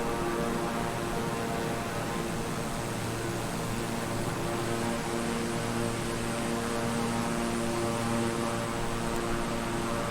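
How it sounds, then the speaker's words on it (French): A Beechcraft King Air 350i turboprop drones steadily in Microsoft Flight Simulator 2020, a constant engine and propeller hum with tonal layers that stays loud and even throughout, with no talking. "Ça, c'est un avion qui vient dans le simulateur"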